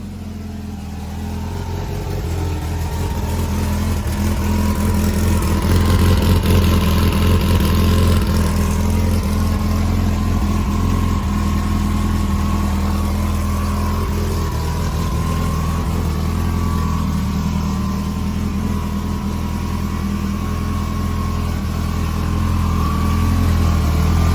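A Mitsubishi DSM drag race car, a seven-second car running on methanol, idles with a loud, steady engine drone that swells into a rev and holds near, with no speech.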